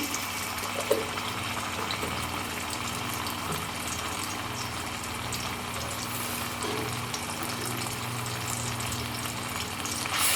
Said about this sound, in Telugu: తర్వాత మళ్ళీ పోపు వేసుకుంటున్నా దీంట్లో కొంచెం జింజర్ గార్లిక్ పేస్టు